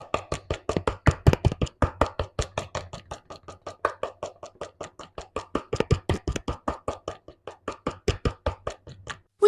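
Rapid, even taps of a whisk or utensil against a bowl as eggs are beaten into batter, dozens of quick close strokes in a steady rhythm with brief pauses.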